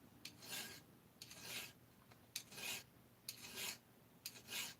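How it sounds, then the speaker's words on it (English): Hand file rasping a Husqvarna 350 chainsaw cylinder port, five or six rhythmic scraping strokes, each a near, gritty rasp separated by short pauses. "I'm going to work with the file a little bit more"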